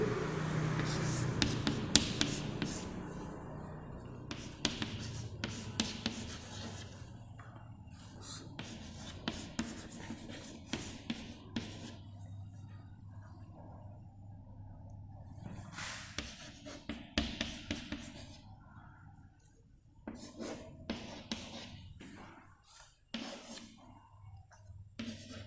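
Hand writing on a board or page during a maths lesson, with repeated scratchy strokes in bursts and pauses, fairly close and moderately loud, with faint background noise between strokes.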